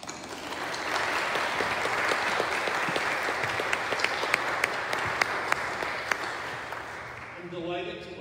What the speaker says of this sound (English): So if you feel so moved to applaud, feel free.